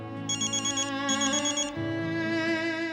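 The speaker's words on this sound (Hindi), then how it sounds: "लो, उसी का फोन है, सुन लो, सब लोग सुन लो।" Telephone ringtone playing a bright electronic melody with repeated tonal phrases, clear and fairly loud, with no talk over it.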